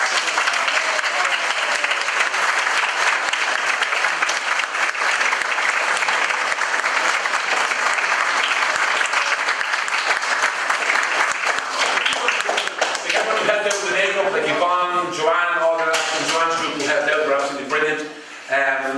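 A sustained round of applause from an audience at a Southend school celebration, dense clapping that runs for many seconds before a voice begins speaking over the fading claps near the end.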